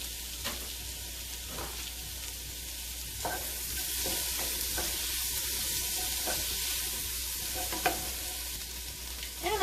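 Leftover tomato paste frying in a pan while soup is being made, a constant bright sizzle with soft periodic stirring scrapes, close and steady, no voice.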